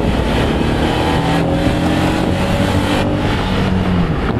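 A 1991 Acura NSX accelerates hard on a speed run, its engine a loud, steady roar that holds close and continuous throughout with no talking over it.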